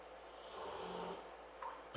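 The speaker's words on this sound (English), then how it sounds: "Excuse that snoring" A single soft snore rises and fades in the background, faint and low, with no talking.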